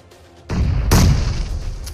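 In a battle royale video game, a thrown grenade detonates with a sudden heavy boom, followed by a second sharp burst and a rumbling decay, loud and close.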